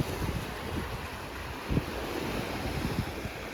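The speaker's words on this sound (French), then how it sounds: "La mer est très bonne et les vagues sont toutes petites." Small, gentle sea waves wash onto a gently sloping beach at Con Dao island, a soft continuous surf hiss with light wind buffeting the microphone and a few faint splashes.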